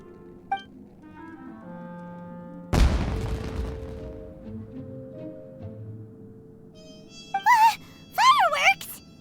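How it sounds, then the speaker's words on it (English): A single sharp, booming explosion from fireworks in the video game Genshin Impact cracks out loudly and decays amid soft game tones, followed by brief warbling effects. "Was that an explosion? It sounded like fireworks."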